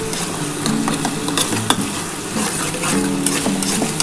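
Egg fries with pepper powder in a pan for egg chowmein, sounding as a loud close sizzle under brisk, repeated spatula scraping and clinks.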